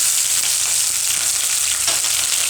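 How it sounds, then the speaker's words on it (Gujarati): Mustard seeds spluttering and crackling in hot oil in a home kitchen while preparing beet poha, a continuous, close, loud sizzle with fine popping throughout. "તો તેલ આપણું ગરમ થઈ ગયું છે, એમાં આપણે રાઈ નાખીશું. આ રીતે તતડવી જોઈએ રાઈ"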